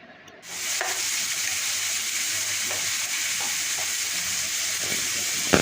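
A masala of ginger-green chilli paste, chopped tomato and turmeric sautés in a pan with a loud, continuous hissing sizzle and a few light stirring scrapes.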